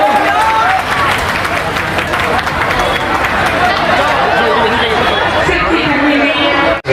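Crowd at an outdoor political workers' rally in a Bihar college courtyard breaks into sustained clapping and cheering to welcome a leader, dense and loud throughout with chatter mixed in.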